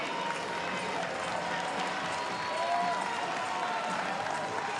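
Crowd at a women's fitness competition event in Granite City cheering a runner, a steady wash of distant applause and voices, with a commentator talking over it.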